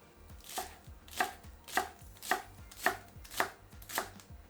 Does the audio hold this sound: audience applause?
no